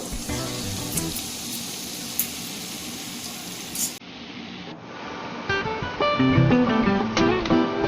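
Thin shoestring potatoes fry in hot white oil with a steady, close sizzle and crackle, and musical tones come in over the frying partway through.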